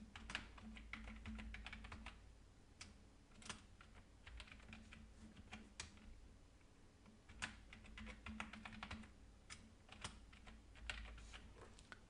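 A password is typed on a computer keyboard: quiet, close key taps in irregular clusters with short pauses between, no voices.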